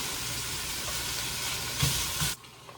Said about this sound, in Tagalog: I am now cooking chili